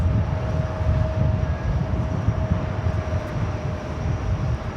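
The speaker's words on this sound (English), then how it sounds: "An A321neo now rolling down runway 13 right" An Airbus A321neo on its takeoff roll down runway 13 Right at JFK on a windy day. Its engines make a steady, broad roar that holds at a constant level, with no speech over it.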